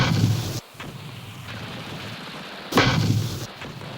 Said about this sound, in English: One weapon highly valued by the crews of armored vehicles and by foot soldiers was the M79 grenade launcher, called the Duper from its sound.